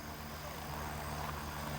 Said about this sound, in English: so we can hear the helicopter